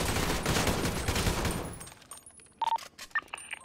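Rapid automatic gunfire rattles loudly in a video game shootout against SWAT, then cuts off, leaving a few sharp electronic beeps and clicks in the quiet.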